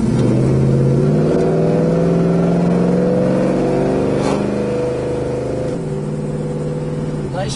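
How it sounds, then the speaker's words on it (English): A 1970 Chevrolet Chevelle accelerates from inside the cabin, its engine drone climbing steadily and dropping at firm gear shifts around the midpoint and near the end, loud and continuous. "Nice firm shifts, nice crisp firm shifts on it."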